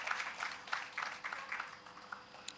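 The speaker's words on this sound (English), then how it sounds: "Can we give them a round of applause for that" An expo audience gives a round of applause at an employment event for persons with intellectual disabilities, a faint, steady wash of many hands clapping for a few seconds with no voices.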